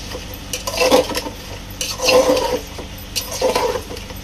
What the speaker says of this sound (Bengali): এখন আমার লাউটা কষানো হবে।